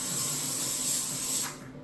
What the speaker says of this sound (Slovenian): si še topo sprejam ta zgornji del in počakam, da se kodri ohladijo